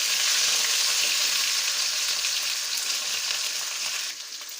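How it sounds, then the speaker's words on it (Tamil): Onions and curry leaves frying in hot oil in a pan for tomato kulambu, a loud, steady, close hiss of sizzling that holds evenly throughout and eases slightly at the very end. "இப்போ வெங்காயம் போட்டுக்கலாம். வெங்காயம், கருவேப்பிலை."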